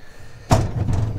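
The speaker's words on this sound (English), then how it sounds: "you can open up the glazed doors." Glazed doors on an antique pine dresser swing open with a single sharp knock-like contact, followed by a brief lower rattle of wood and glass, close and moderately loud.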